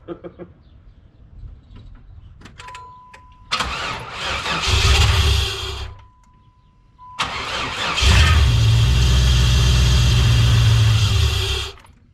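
A 1994 Chevrolet Caprice that had been sitting is cranked twice, each start catching into a loud rough idle that runs for a couple of seconds and then fades, with a faint voice in between.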